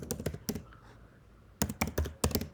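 Quick clacking keystrokes on a Mac computer keyboard, two short bursts of crisp taps separated by a brief pause, close and fairly quiet.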